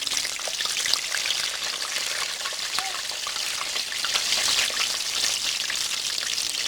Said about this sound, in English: We're going to deep fry some burritos here.